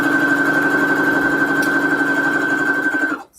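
Steady mechanical whir of a sewing machine stitching fabric scraps together for a quilt, running loud and continuous with a constant hum before stopping abruptly near the end.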